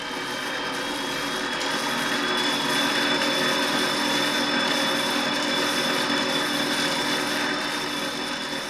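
A hand-spun flywheel with a rubber strip around its rim drives a brushless outrunner motor used as a generator in a simple human-powered USB charger, giving a steady, close mechanical whir with a faint high whine, with no talking.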